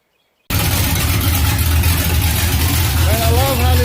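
A race car's engine with uncapped headers starts up after a brief silence and settles into a loud, steady, rumbling idle close by, with a few faint chirps late in the clip.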